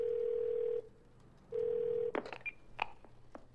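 Telephone call tones from the video game 12 Minutes: two long steady ringback beeps separated by a pause, followed by a burst of brief clicks and electronic blips as the line connects, clear and alone.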